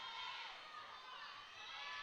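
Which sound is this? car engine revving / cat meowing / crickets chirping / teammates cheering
teammates cheering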